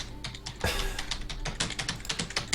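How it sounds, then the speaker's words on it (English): Fingers clatter across a Dell computer keyboard in quick, uneven bursts of key presses, close to the microphone with no talking. "This is a Dell shit keyboard."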